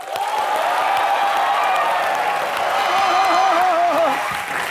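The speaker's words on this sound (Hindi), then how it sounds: "जोरदार तालियां।" Studio audience applause at a TV comedy show, a steady dense wash of clapping that holds loud throughout, with cheering voices and a sustained tonal note rising near the end.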